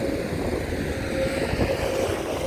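A water pump engine runs beside a canal being dredged by Sany SY200C and XCMG XE215C excavators, giving a loud, steady droning rumble with wind noise and no break.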